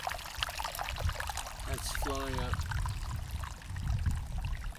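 Shallow water trickling and pouring down from fumaroles at Yellowstone, a steady close-up watery wash with low rumbling underneath, while a voice speaks briefly.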